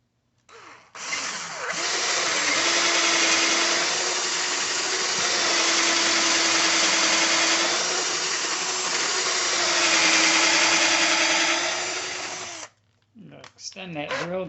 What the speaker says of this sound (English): Extend that drill just a little bit.